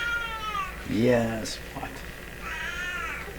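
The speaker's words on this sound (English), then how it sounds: "cats are looking for attention here" Cats meow up close in several drawn-out, wavering cries, one loud and rising, with a brief spoken question in between, over the faint hiss of a background room.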